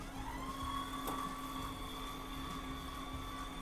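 A KitchenAid stand mixer running with its pasta roller attachment while rolling out pasta dough for stuffed caramelle, giving a steady close motor whine with a constant tonal hum and one brief knock.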